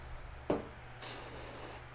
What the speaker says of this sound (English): Silicone spray, that's what I'm just something nice and slick.